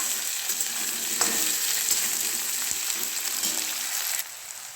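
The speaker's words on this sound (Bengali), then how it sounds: "পেঁয়াজগুলো ফ্রাই করে নিই আগে।" Sliced onions fry with a bay leaf in a pan for a mutton dish, sizzling steadily with occasional stirring knocks until the level drops off near the end.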